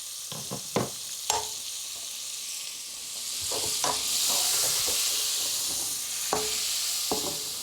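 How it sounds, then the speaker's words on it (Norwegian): Butter sizzles in a frying pan as cod roe fries, a steady bright hiss with several sharp clinks and scrapes of a utensil against the pan, close and alone with no talking. "Vi passer at smøret blir litt gyllent, for vi skal bare steike rogna litt"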